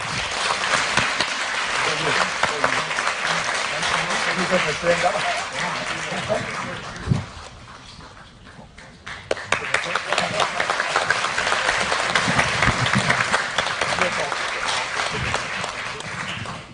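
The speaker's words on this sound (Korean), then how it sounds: "울리백 교수님을 큰 박수로 환영해 주시기 바랍니다" An audience in a lecture hall in Seoul gives sustained applause to welcome the sociologist Ulrich Beck for a special lecture. The dense clapping fades briefly in the middle, then swells again and continues loudly.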